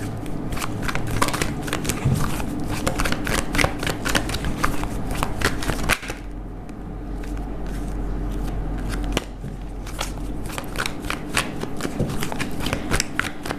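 Tarot cards are shuffled continuously, a dense rapid patter of riffling card edges close by, with a short quieter pause midway before the shuffling resumes.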